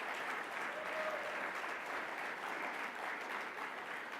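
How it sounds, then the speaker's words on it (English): Audience applause at a national service awards ceremony, a steady, dense wash of clapping that holds evenly for about four seconds at moderate loudness with no voices over it. "I think that deserves a round of applause as well"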